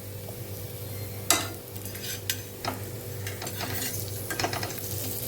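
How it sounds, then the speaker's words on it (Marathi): Crispy spiced potato slices fry in a pan with a steady background sizzle, broken by sharp scrapes and clinks of a utensil stirring and turning them. "आता असेच मी बाकीचे उरलेले फ्राय करून घेणार आहे."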